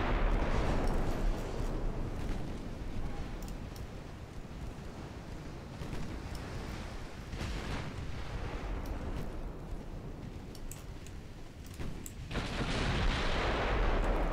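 Dreadnought battleship naval guns fire in a Japanese campaign naval battle, heavy booming blasts rolling over a continuous rumbling wash of sea and wind, loud and sustained with a fresh surge near the end.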